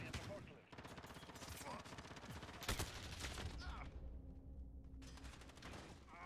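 Rapid automatic gunfire rattles in Call of Duty Modern Warfare, dense bursts of shots with a sharper crack partway through and mechanical clicks, while someone talks faintly over it.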